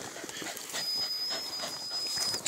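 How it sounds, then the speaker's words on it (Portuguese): A hunting dog pants and breathes heavily, close up, during an agouti hunt in the woods, over a steady hiss of background noise, with a sharp burst at the very end. "Segura o cachorro."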